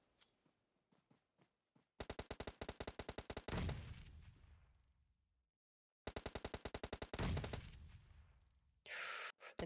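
Rapid automatic gunfire from the mobile battle royale game PUBG Mobile during a professional women's league final, two loud sustained bursts of shots with a decaying tail between them and a harsh final blast.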